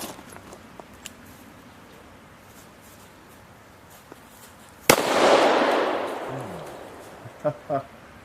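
A shotgun loaded with triple-aught buckshot fires a single loud, sharp blast at a 7-yard range, with a trailing rumble. A couple of fainter clicks or knocks come afterward.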